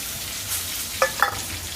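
Peanuts, green and dry chilies and curry leaves frying in hot oil, giving a soft steady sizzle with a couple of brief crackling pops from the pan.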